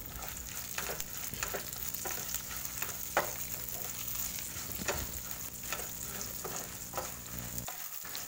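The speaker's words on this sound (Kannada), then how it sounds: "ಕೊತ್ತಂಬರಿ ಪಾಡ್ದಲ ಫ್ರೈ ಮಲ್ಪುಡು" Coriander seeds frying in a pan crackle and sizzle steadily, with intermittent sharper pops and scraping stirs close by, alone without any talk.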